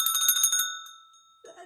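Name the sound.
bicycle bell being rung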